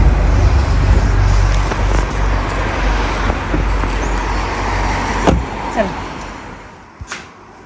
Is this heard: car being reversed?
yes